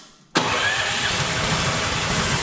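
A four-wheeler ATV engine, being converted into a mini swamp buggy, cranks briefly and catches, then settles into a steady, loud, close idle with no talking.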